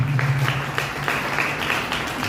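Congregation applauding in a Lutheran church during a Telugu sermon, brief close-up clapping with a few distinct claps over a steady patter and a low hum in the room.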